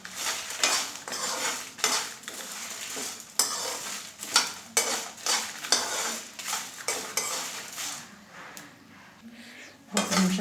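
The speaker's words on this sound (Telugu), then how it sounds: "మిరపకాయలు కూడా దీంట్లోకి వేసి లాస్ట్కి ఒకసారి అన్నీ కలబెడతాం" Red chillies roasting dry in a pan for Rayalaseema-style chilli powder are stirred with a metal utensil, giving repeated scraping clinks and rattles against the pan over a faint sizzle, close and steady with no voices.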